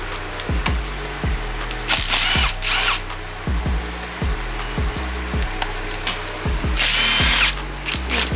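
A power tool backs small 10 mm bolts out of a Honda K20A2 engine during a teardown, short repeated whirring bursts with ratcheting clicks, close and loud, interrupted by a couple of longer high-pitched spins.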